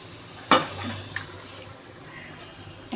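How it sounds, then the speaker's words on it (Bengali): Mutton tipped into a pan of fried spices for curry, giving a sudden loud clatter and sizzle burst, then a lower simmering hiss with one more sharp knock of a utensil. "এবার আমি মাংসটা ঢেলে দেব।"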